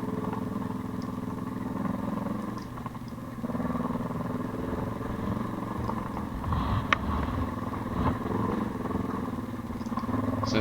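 A motorcycle climbs a steep green lane hill in Cornwall, its engine a steady, close drone that holds for the whole stretch, with occasional knocks and clatter from the rough track and no voices.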